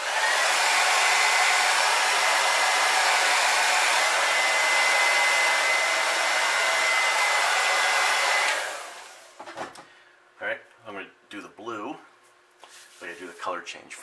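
A hair dryer blows steadily and loudly for about eight seconds, drying fresh paint on a custom crankbait fishing lure, then shuts off and a person talks in the quieter remainder.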